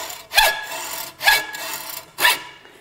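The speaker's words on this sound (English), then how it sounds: "Next, we're gonna cut in the arrow shelf." A saw or rasp cuts the arrow shelf into a fiberglass bow handle, 5/8 inch deep: three separate, evenly spaced rasping strokes, close and fairly loud, with short pauses between them.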